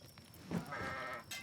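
Goats bleat in the Kenshi video game, a short nasal bleat rising over a faint game ambience backdrop, close and moderately loud.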